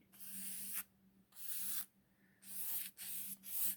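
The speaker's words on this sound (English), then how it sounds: "spraying the gold on top of my purple or lavender acrylic paint" Gold spray paint hisses in bursts over purple or lavender acrylic paint on an art journal page. There are about four or five separate sprays of a second or less, close and fairly quiet, with short silent gaps between them.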